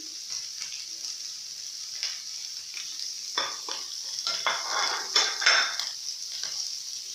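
Minced beef stew with capsicum being stirred in a pan, giving a soft steady sizzle with scraping spoon strokes against the metal that grow busier and louder toward the end, close by and without speech.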